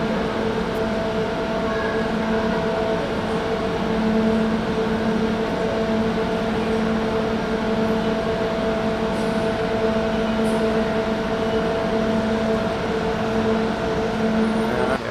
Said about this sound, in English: Comes our tram coming in for a landing